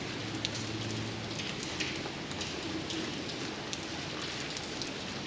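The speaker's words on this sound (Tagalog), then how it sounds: "Ulan po." Steady rain falling outside, a soft continuous hiss with scattered drops tapping a surface, fairly faint and even throughout, no voices.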